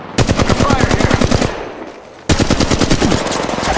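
Rapid automatic gunfire in the mobile game Apex Legends Mobile, loud and close, with two long bursts of evenly spaced shots split by a brief pause.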